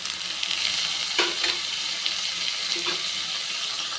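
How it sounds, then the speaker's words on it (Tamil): Beans and carrots sauté in butter for a vegetable soup, giving a steady close sizzle with a few brief stirring scrapes and clinks of a spoon against the pan. "பீன்ஸு கேரட்டு மாத்திரம் அந்த பட்டர்லேயே வந்து நல்லா ஒரு அஞ்சு நிமிஷம் நல்லா வதக்கிக்கிறேனுங்க"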